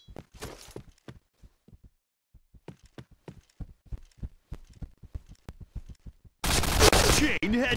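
MP7 gunfire in the Point Blank shooting game, a rapid series of sharp shots in uneven bursts, followed by a loud, dense blast of noise at the end.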